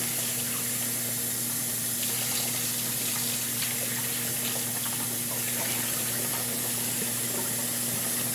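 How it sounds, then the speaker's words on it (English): Hot tap water runs steadily into a sink while baking tools are rinsed under it, a continuous close splashing hiss with faint clinks and shifts as the items move through the stream. "Now, I'm going to just simply rinse this off with hot water."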